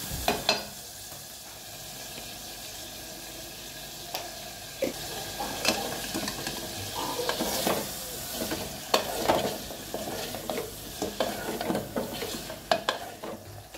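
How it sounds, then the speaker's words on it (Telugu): Chicken cooking in a pan over a low flame, a steady sizzle broken by repeated scraping and stirring clinks of a utensil against the pan, close and fairly loud. "చికెన్ని బాగా మనము సన్నని సెగపై ఉంచుకొని బాగా ఉడికించుకోవాలి"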